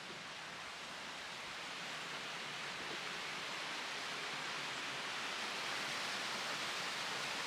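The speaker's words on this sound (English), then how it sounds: "And this is the water stream." A mountain water stream on a hiking trail up Spain's highest peak, a continuous broadband rush of flowing water, steady and fairly close with no other sounds.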